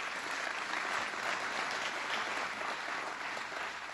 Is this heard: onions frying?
no